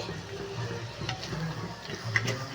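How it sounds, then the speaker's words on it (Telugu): Stuffed eggplant in sesame curry frying in a pan, a soft steady sizzle with faint stirring scrapes and a small clink, heard close but quietly, with no talk. "దగ్గరుండి ఇలా ఫ్రై చేసుకుంటూ ఉండాలి కదా"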